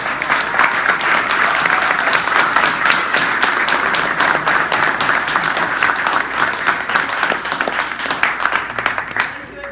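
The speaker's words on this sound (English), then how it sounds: "Why don't we give our candidates a round of applause?" Loud, dense, sustained applause from the audience at a candidate debate event fills the whole stretch, a close, continuous roar of many hands with only a slight easing at the very end.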